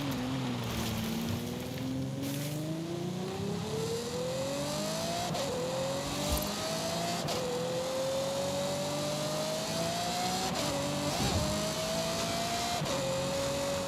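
A car engine in Forza Horizon 5 revs continuously, its tone climbing gradually and then stepping back with each gear change across repeated upshifts, loud and steady with no talking.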